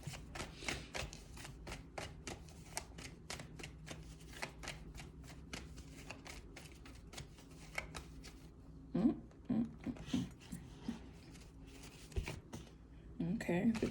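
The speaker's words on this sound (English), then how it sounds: "Let me at least shuffle." Tarot cards being shuffled by hand, a rapid run of crisp riffling and slapping taps repeated close up, with brief pauses and a few louder clacks near the end.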